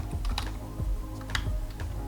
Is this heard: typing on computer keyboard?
yes